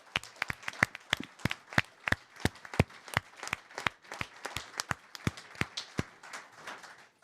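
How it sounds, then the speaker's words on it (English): A round of applause from a fans' forum audience at a football club, with distinct, separate claps spaced fairly evenly at moderate volume and heard in a room without speech. "I think that deserves a round of applause"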